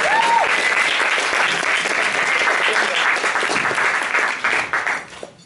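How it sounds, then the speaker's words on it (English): Audience applause at an evening storytelling performance, a dense, loud wash of clapping that holds steady and then thins out at the end. "Another round of applause, I think."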